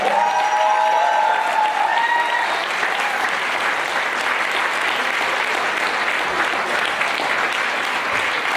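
Loud, sustained crowd applause fills a hall at the opening ceremony of a 2016 event, with dense steady clapping throughout and a few brief tones early on.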